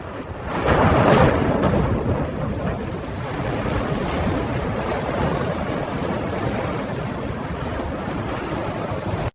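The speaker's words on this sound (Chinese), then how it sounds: "我独自坐在小屋外，听冰川的声音" Ice near a glacier in Greenland gives off a continuous deep, rumbling roar that swells early on and then holds steady, with no voices.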